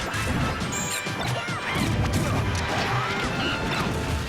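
Smash attacks land in a Super Smash Bros. Brawl match, sharp crashing hit sounds repeating over busy game audio and crowd noise.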